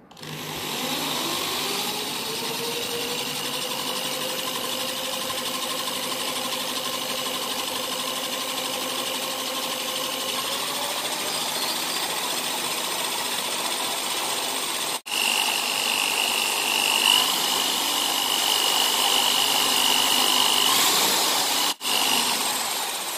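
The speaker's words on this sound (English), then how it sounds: "run the generator with some external force, external drive" Homemade 220 V, 500 W multistage wind generator spun by an external drive, a loud, continuous motorized whine and hum holding steady for over twenty seconds, with a higher tone joining partway and two brief dropouts.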